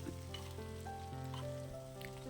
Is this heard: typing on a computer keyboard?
no